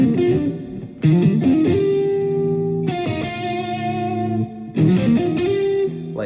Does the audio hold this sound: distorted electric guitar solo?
yes